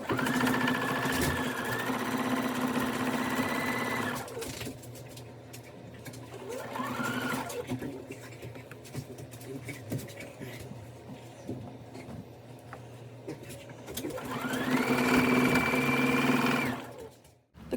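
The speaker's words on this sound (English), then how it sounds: "I just need to sew these 2 halves together" A sewing machine stitches two quilt halves together in close, loud steady runs at the start and near the end, with a quieter stretch between where a voice talks over handling noise.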